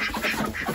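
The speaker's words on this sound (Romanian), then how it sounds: "Aici este o rață albă, rățoiul," Ducks quacking in a short, busy burst, several nasal calls overlapping close by with no talking.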